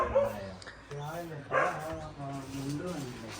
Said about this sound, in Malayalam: ആ പൂച്ചനെ കണ്ടിട്ട് കുരയ്ക്കുകയാണ്